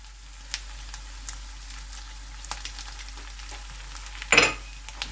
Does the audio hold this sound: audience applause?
no